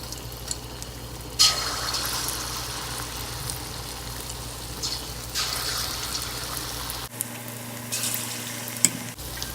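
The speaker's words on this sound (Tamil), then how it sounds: "எண்ணெய் நல்லா சூடாக இருக்குங்க. இதில் கச்சாயத்தை ஒன்றா போட்டு எடுத்துடலாங்க." Wheat kachayam batter sizzles and crackles steadily in hot oil, a continuous close frying hiss with brighter surges as more batter drops in, then a brief quieter stretch near the end.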